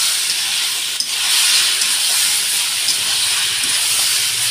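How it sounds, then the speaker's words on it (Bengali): Spice paste with salt, chilli and turmeric frying in a pan for a fish curry with Malabar spinach stems, a steady loud sizzle and hiss, close and continuous. "একটু মশলাটা কষিয়ে নেব।"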